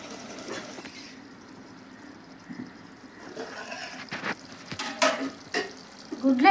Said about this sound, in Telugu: గుడ్లు వేసేస్తున్నానండి.